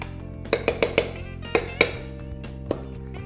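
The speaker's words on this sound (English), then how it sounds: "We give this a mix." Soaked breadcrumb mixture stirred in a bowl, with a handful of sharp clinks and taps of a utensil against the bowl in an irregular rhythm, close and fairly quiet, with no talking.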